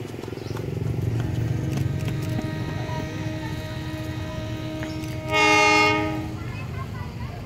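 A train on the line to Garut, Indonesia, rumbles past with a steady mechanical drone, then its horn blasts loudly for about a second before the rumble continues.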